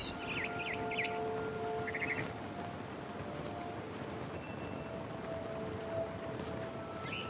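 A barn swallow chirps in quick bright bursts in the video game What Remains of Edith Finch, set against a dense steady ambient background with a few scattered tweets further off.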